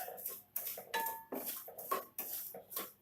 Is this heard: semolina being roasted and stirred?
yes